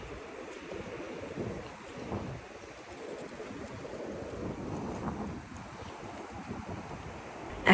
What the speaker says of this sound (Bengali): নিরিবিলি বিচগুলোতে মানে একদম ঢেউয়ের শব্দটা ক্লিয়ার শোনা যায়